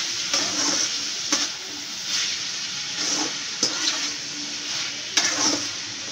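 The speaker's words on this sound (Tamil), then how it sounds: "இப்போ நல்லா கிண்டி விட்டுட்டு நம்ம மூடி போட்டு ஒரு அஞ்சு நிமிஷம் வேக விட்டுடலாம்" Carrot and prawn stir-fry sizzles in a pan while a utensil stirs it, with a continuous hiss broken by several sharp scraping strokes at uneven intervals, heard close and without talk.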